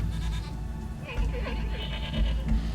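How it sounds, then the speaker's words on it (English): Goats bleat in a Star Wars Andor scene on a double-moon planet, several short wavering calls over a steady low background, with speech-like sound mixed in. "Star Wars goats"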